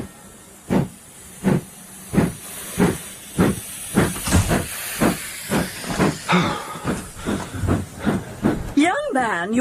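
Steam locomotive chuffing in steady rhythmic bursts with loud hissing steam, a train pulling away, ending in a rising whistle-like squeal; no talk.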